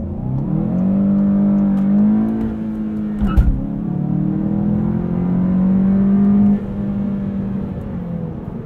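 A 2020 Volkswagen Golf GTI with a six-speed manual cruises in comfort mode, its engine holding a steady hum with a brief rise and fall in revs and a short thump partway through, heard from inside the cabin.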